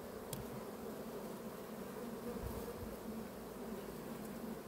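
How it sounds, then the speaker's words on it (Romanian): Constant buzzing hum of many honeybees close by at a hive entrance, steady and low, with a few louder passes as individual bees fly near. "intră o albină cu polen"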